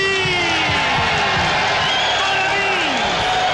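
A boxing arena crowd roars and cheers after Butterbean's unanimous-decision win, loud, sustained and close, with whoops over a steady wall of noise and a tonal voice sliding underneath.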